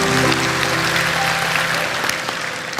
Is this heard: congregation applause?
yes